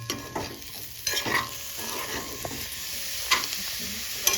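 Mutton fry stirred in a pan near the end of cooking: a low steady sizzle with a few scraping strokes of a spoon, close and fairly quiet.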